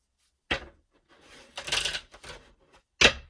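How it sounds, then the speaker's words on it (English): Tarot cards being shuffled by hand: a sharp riffle snap, a softer shuffling burst in the middle and another crisp snap at the end, close and clear in a quiet room. "That didn't want to shuffle."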